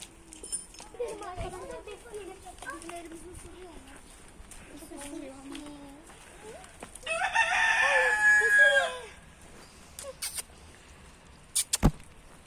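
Chickens cluck and murmur close by, with a loud rooster crow in the middle and a few scattered knocks toward the end.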